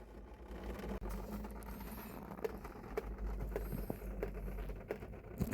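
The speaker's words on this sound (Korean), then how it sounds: "지금 떨어지는 물은 에. 예. 헤드라인에서 떨어지는 물이에요." Water drips from the leaking headliner inside a Volkswagen Tiguan, a run of small soft taps and patters at close range over a steady low background hum.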